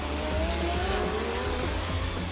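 A race car on the Spa-Francorchamps circuit, a loud continuous engine roar with tire squeal, heard close from a vehicle on the service roads beside the track.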